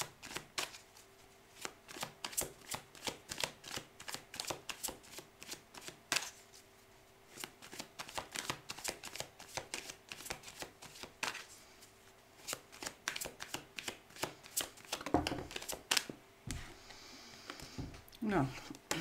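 Tarot cards shuffled for a reading, rapid riffling clicks in quick bursts with short pauses, close and crisp, while someone speaks French over them.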